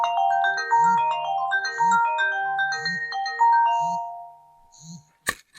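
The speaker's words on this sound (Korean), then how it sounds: "전화 벨소리를 먼저 들어볼까요?" A melodic electronic ringtone plays a bright chiming tune close by from a KOSPET Tank T3 smartwatch, while low buzzing vibration pulses repeat underneath, ending with a sharp click.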